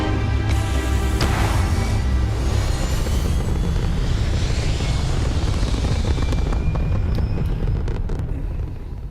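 A spaceship lifting off in Starfield: a sustained loud roaring engine rumble with whooshing turbulence, steady throughout and easing slightly at the close, no talk over it.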